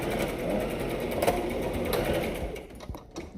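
A sewing machine runs a short back stitch, its steady, loud motor whir with needle clatter continuing alone and close before easing off near the end.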